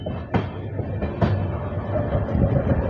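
Indian Railways train with a WAG9 locomotive at a nine-platform station near Hyderabad, heard as a steady rumble of rail cars with a few sharp clanking jolts, continuous and fairly close.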